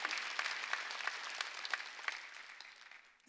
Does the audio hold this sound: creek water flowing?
no